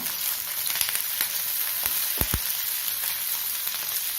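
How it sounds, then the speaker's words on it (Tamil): Onion, garlic, tomato, curry leaves and green chilli sautéing in hot oil in a pan for kara kuzhambu give a steady, close crackling sizzle with a few sharper pops, and nobody speaks. "வெங்காயம் பூண்டு தக்காளி கருவேப்பிலை போட்டு வதக்கணும்"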